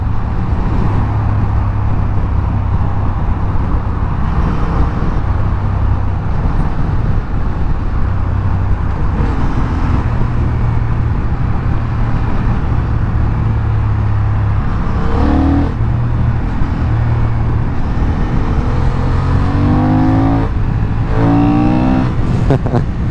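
A Honda Hornet motorcycle engine revs and accelerates up through gears, loud and close, with wind and road noise throughout.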